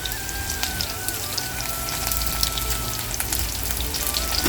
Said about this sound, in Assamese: পিঁয়াজখিনি অকণমান গোল্ডেন ব্ৰাউনিছ হৈ যোৱালৈকে এনেকৈ থ'ম অঁ ইয়াত মই জলকীয়াকেইটা দি দিওঁ